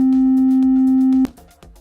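A steady, pure electronic sine tone from a VCV synthesizer module holds at one pitch, then cuts off abruptly, leaving faint clicks and background noise.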